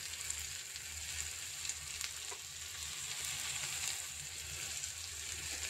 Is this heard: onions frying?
yes